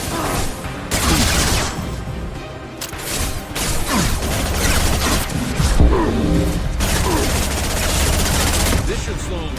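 Heavy gunfire roars through a Mass Effect 2 sci-fi cutscene: dense, continuous automatic bursts with crashes and booms, loud and close, layered with battle noise for the whole stretch.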